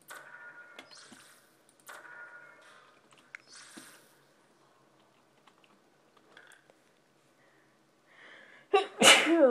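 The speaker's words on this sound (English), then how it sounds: "Oh, I just sneezed." A single loud, close sneeze bursts out at the very end of a mostly quiet stretch during a Portal demo play session, preceded by faint scattered clicks and taps like keyboard typing.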